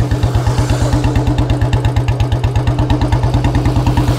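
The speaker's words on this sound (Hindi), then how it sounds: "ऐसे आप लोग आवाज़ सुनो, और थोड़ा सा आरपीएम कम करते हैं।" Royal Enfield Bullet 350 BS4 motorcycle fitted with a C-bend exhaust pipe, its single-cylinder engine thumping in a fast, steady, even rhythm at lowered rpm, loud and close with no talk.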